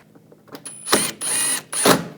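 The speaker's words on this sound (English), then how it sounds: "Now put this screw in. Snug that down." A ratchet snugging down a screw on the front grille trim of a 2014-2018 GMC Sierra pickup, a few soft clicks followed by three short, close, rasping bursts of ratcheting.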